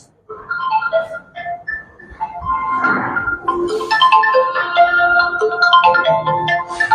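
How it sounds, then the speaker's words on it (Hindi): A mobile phone ringtone plays a loud, bright melodic tune of repeated tonal notes that builds in layers over several seconds, with no talk over it. "फ्लाइट मोड में भी फोन आता है"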